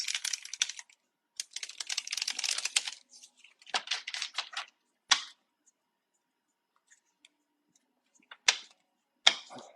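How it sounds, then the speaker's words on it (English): A deck of tarot cards being shuffled by hand in bursts of dry, papery riffling and flicking, with quiet pauses and a few sharp single snaps between the shuffles, close and fairly soft. "I have to shuffle the cards until I feel good about it."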